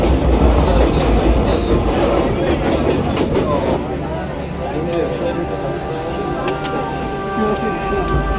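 A passenger train nears Prayagraj during the Maha Kumbh 2025 crowds, its steady heavy rumble and rattling wheels heard from inside a packed coach, with a dense murmur of many voices talking throughout.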